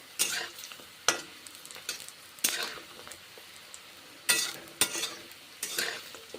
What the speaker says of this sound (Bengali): বড়াগুলোকে ভেজে নিচ্ছি তারপর অন্য পাত্রে রেখে দিচ্ছি ভাজা বড়াগুলো